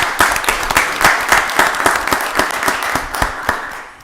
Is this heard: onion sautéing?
no